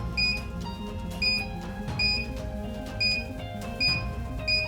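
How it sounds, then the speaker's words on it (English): Electronic buzzer, triggered by a push button, sounding continuously with a steady pitch, pulsing in regular bursts about once a second, loud and close. "When I press the push button, buzzer is giving sound."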